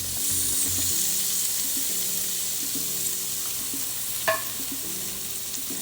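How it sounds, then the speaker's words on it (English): Scallions simmer and sizzle in a pan for jerk chicken and rice and peas, a soft steady frying hiss with faint clinks and a sharp knock partway through, quiet and close. "We're just going to let the scallions kind of simmer for about 3 minutes or less"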